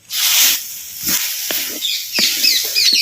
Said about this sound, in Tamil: அப்படியே எண்ணெயில் நல்லா வதக்கி